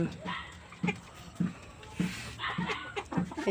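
Large, well-kept farm chickens cluck in short repeated bursts close by, with a person talking over them and a low background hum throughout.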